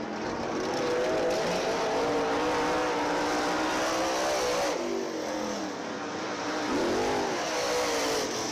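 Race cars lap Dixieland Speedway in a steady, loud engine roar, with one car rising and falling in pitch as it passes close by and another sweeping past near the end.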